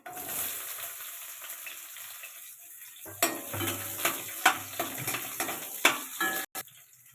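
Chopped onions hit hot oil in a pan for chicken thokku, giving a soft sizzle and then a run of sharp spoon or spatula knocks and scrapes against the metal, close by and irregular, with no voices.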